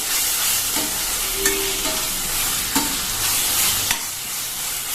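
Ginger garlic paste sautés in a pan for pulav rice, a constant hissing sizzle with a spoon scraping and tapping the pan at intervals, close and clear, no speech.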